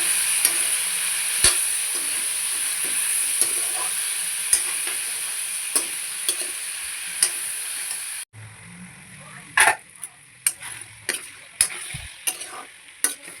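Potatoes and pumpkin pieces fry in a little oil with onions and pork, giving a steady close sizzle with stirring scrapes. The hiss drops suddenly partway through, and sharper clatters of spatula stirring follow.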